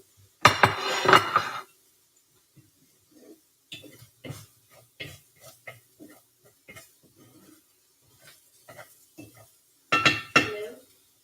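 Plates and cutlery clinking while eggs are plated, scattered light taps and clinks of dishes with louder clattering bursts at the start and end, mixed with talking.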